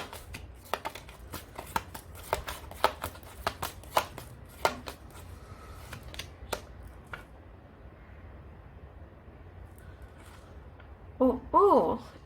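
Tarot cards being shuffled by hand, a quick series of crisp irregular flicks and riffles in a quiet room, fading out midway, followed by a brief voice at the end.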